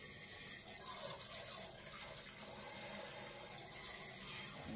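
Water runs and splashes steadily into a pot of cleaned chitterlings, a continuous close hiss and trickle with no talk.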